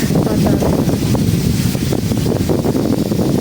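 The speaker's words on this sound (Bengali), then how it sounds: "প্রচুর বাতাস ছাড়ছে" Strong wind outdoors in a Bengal village buffets the microphone in a constant, loud low roar with gusting bursts, close and unbroken.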